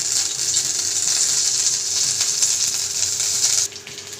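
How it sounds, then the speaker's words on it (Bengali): Neem leaves frying in hot oil for a Bengali shukto, a loud, steady high hiss of sizzling that runs continuously and then drops noticeably quieter near the end. "এবার নিম পাতা একটু ভেজে নেব।"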